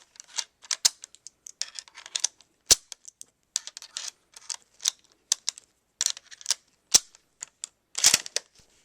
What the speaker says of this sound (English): you can also load the Kar98k with up to 5 loose rounds. Again, open the bolt, just insert each one into the magazine and push down.